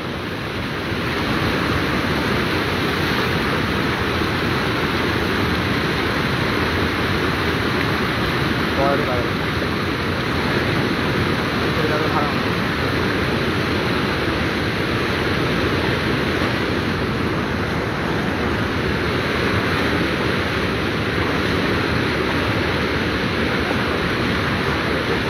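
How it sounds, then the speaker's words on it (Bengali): Strong current of a flooding Ganges river near Dirghagram, Kismat, Irpala, rushing as a steady, loud broadband roar with wind buffeting across the whole span and no clear breaks. "জলের যে স্রোত, সেই স্রোতও কিন্তু প্রচণ্ড লক্ষ্য করা যাচ্ছে"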